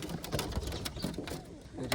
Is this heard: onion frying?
no